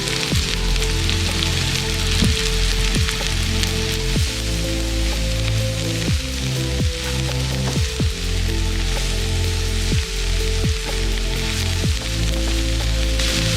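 Chopped onions sizzle and crackle steadily in a hot pan, a continuous close frying hiss with scattered pops and no voices.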